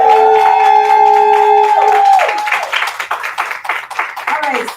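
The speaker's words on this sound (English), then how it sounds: "So I'm clapping up for the TheGYExp" A crowd at a poetry slam send-off event breaks into clapping and cheering after a sustained tone fades out, with scattered voices mixed into the applause.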